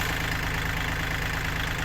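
Motorcycle engine idling before farm work with a rotor over open fields: a steady, even drone close by, continuous and unchanging, with no speech.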